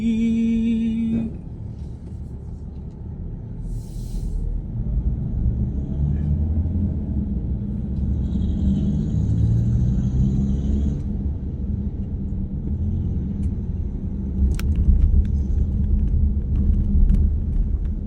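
A car driving along Kalayaan Avenue gives a steady, loud low rumble of engine and road noise, with light traffic sounds throughout.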